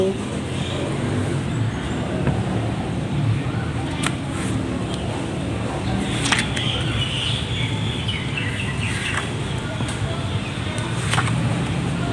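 Continuous road noise from cars passing near a Thai temple fills the scene, with a few faint bird chirps now and then.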